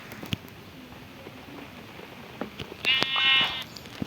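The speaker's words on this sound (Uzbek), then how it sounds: "Yana bitta qo'y." A single short sheep bleat from a Minecraft-style one block video game, clear but moderate in level, rising out of a quiet background near the end.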